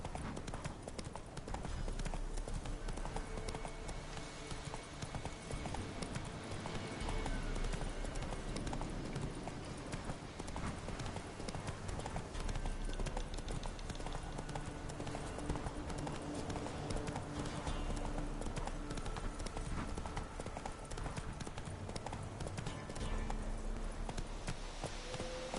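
Hooves of Roach, the horse in The Witcher 3, pound in a continuous fast gallop rhythm, loud and steady over game music and ambience for the whole stretch.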